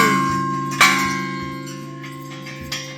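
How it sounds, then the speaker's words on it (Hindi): A metal temple bell at a Gorakhnath temple in Uttarakhand struck twice, the first strike bright and ringing, the second softer, over a steady tonal hum with long decaying resonance. "ये घंटी देखो"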